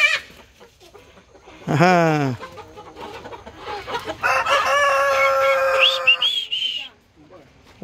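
Hens cluck and squawk nearby while a rooster lets out a long, loud crow, with a brief voice in Spanish heard over the farmyard noise.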